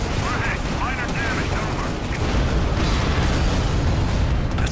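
An armored personnel carrier blows up in the open-world action game Prototype, a loud sustained rumble of blasts and bursts filling the whole stretch, with game voices speaking over the din.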